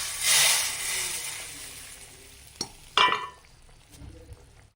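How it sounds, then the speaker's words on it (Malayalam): Fried shallots in hot oil poured into a coconut fish curry with kudampuli and ivy gourd, a bright burst of sizzling followed by a couple of sharp clinks of a utensil against the pot. "അതിലേക്ക് ഞാൻ ഈ ഉള്ളി കാച്ചിൽ ഒഴിച്ചു കൊടുക്കണം"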